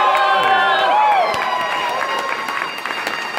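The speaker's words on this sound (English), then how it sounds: "Let's have a big cheer because it's the" A large convention crowd at an opening ceremony in Seattle cheers, whoops and applauds loudly and steadily throughout, with excited voices rising above a dense wash of clapping.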